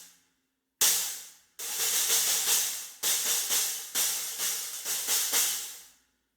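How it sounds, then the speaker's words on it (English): A cymbal stack of an 18-inch Matt Garska Fat Stack top over an upside-down 16-inch Meinl Classics Custom Trash Crash, with a Ching ring, on an auxiliary hi-hat mount, struck about eight times in a rhythmic pattern of trashy, sizzling crashes, each decaying quickly. "so the 18-inch top cymbal from that over an upside down 16-inch Classics Custom Trash Crash."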